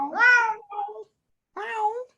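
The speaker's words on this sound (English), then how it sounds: "It's a cat." A cat gives two short meows with a brief pause between them, close and clear against silence, the first one drawn out and slightly wavering.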